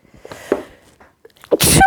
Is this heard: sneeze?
yes